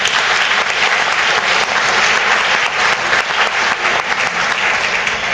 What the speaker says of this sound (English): So round of applause for them one more time.